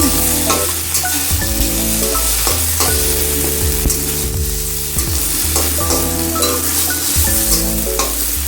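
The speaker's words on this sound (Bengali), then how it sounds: "এই 1 চামচ মতো দিয়ে এবার ভালো করে নাড়তে হবে। একটু ছিটকবে, হালকা ছিটকবে।" Vegetables for a potato and pumpkin curry sizzle and spatter loudly in a hot pan, with rhythmic scraping clanks from the stirring spoon throughout and no talk.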